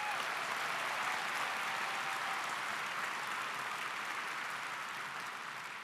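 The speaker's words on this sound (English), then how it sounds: "Let's give Mr. Nardi a round of applause." Applause from a high school commencement audience, a dense, even wash of many hands clapping at a distance, holding steady throughout and easing only slightly at the end.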